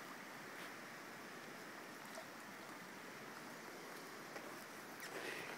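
A high river running full after rain, a steady broadband rush of flowing water heard from nearby, constant and even with no voices.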